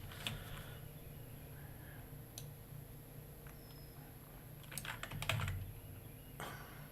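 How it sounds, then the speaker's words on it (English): Computer keyboard typing at a desk, irregular bursts of quick key clicks with short pauses and a louder flurry near the end, close and fairly quiet over a steady low electrical hum. "Just typing it here so I don't forget"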